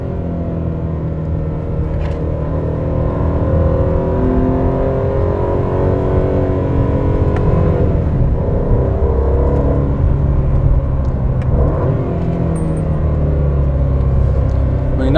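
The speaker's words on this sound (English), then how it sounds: "So you've got a lovely tone there, a lovely Aston Martin tone there from the exhaust." An Aston Martin DB12 with its sports exhaust switched on gives a steady, deep engine drone from inside the car, rising slightly as it pulls, with no talk over it.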